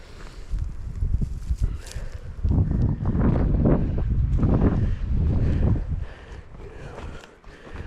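Wind blows across an open pasture where cattle graze in November, a loud, gusty rumble that swells and fades in waves against the microphone.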